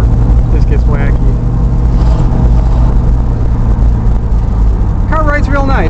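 A 1970 Chevelle SS with a 350 V8 cruises down the road, its engine droning steadily and loudly with road and cabin rumble throughout. A voice is briefly heard near the end.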